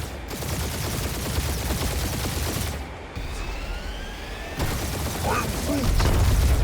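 Sustained ship gunfire from the Guardians of the Galaxy game, a steady rattling barrage running under game dialogue and effects, with a brief dip midway before swelling louder toward the end.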